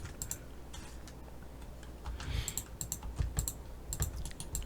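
Computer keyboard keys pressed while modeling a disposable coffee cup in Maya 2018, a scattered series of light, close clicks and taps with no talking.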